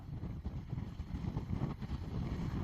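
Strong wind buffeting outdoors in Tenerife near a docked ship, a steady low rumbling roar with gusty swells and no speech throughout.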